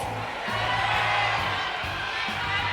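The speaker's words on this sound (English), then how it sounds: "We're getting a lot of cheers from the crowd." A large esports crowd cheers and shouts steadily throughout the knockout-stage game, a continuous loud roar of voices with low rumble and bursts of applause underneath.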